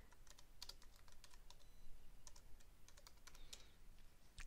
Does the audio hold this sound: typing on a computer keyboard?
yes